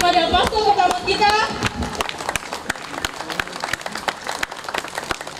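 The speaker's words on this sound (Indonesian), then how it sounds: "Kita beri tepuk tangan lagi kepada pastor pertama kita." A crowd at a Catholic first Mass ceremony claps steadily, the applause starting under a few cheers and shouts and then thinning into scattered sharp claps.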